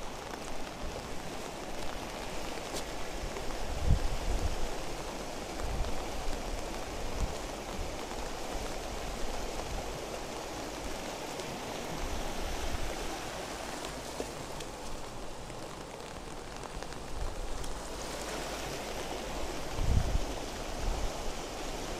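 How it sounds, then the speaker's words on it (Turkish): A flood-swollen creek rushes steadily past at close range in the aftermath of a flood, a dense, continuous wash of turbulent water with occasional low thumps and no voices. "Gördüğünüz gibi dere bu şekilde akıyor."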